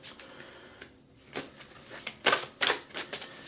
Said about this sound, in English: I like to shuffle on camera.